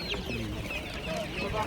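Chickens and chicks cluck and cheep in a busy poultry market, a dense steady chorus of birds heard at moderate distance with faint voices mixed in.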